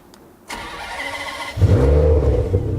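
A car engine is started: a short starter whirr comes first, then the engine catches with a loud, close roar and settles into a deep running idle with slight revving.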